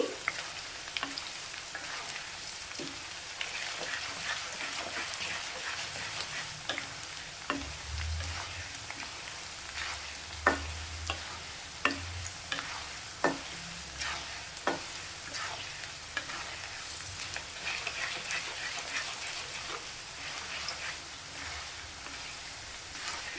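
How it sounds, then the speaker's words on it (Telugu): Garlic sizzles quietly in hot tempering oil for tomato pickle with a steady crackle, punctuated by occasional clinks of a spoon stirring the pan. "వెల్లుల్లిపాయలు బాగా వేగాలండి"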